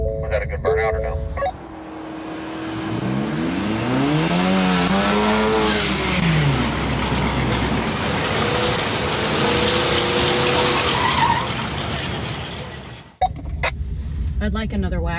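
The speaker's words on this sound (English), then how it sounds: "Was that a good burnout or no?" A rally car at a rally event in Woodburn revs hard through a burnout, engine climbing and falling in pitch with tire squeal on top, loud and near, then cutting off abruptly near the end.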